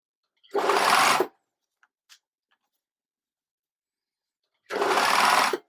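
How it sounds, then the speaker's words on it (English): Two short, close bursts of a sewing machine stitching fabric for a Marnie corset apron, each lasting under a second with a quiet pause between them, along with a couple of faint clicks. "just sewing a little bit at a time"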